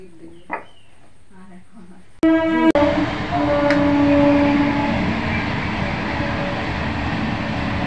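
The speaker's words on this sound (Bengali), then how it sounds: "ট্রেন যাচ্ছে বন্ধুরা" Train passing on the Sealdah to Bongaon line, starting with a sharp horn blast, then a loud sustained rumble and roar of carriages rolling by nearby, following a quiet stretch with a single brief sound.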